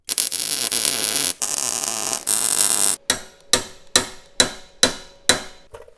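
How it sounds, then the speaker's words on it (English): Hammer blows strike the edge of a steel gusset, about seven sharp, ringing metallic impacts in a steady rhythm, loud and close, following a few seconds of steady buzzing hum. "I'm going to hammer this edge so it kind of curves around this thing"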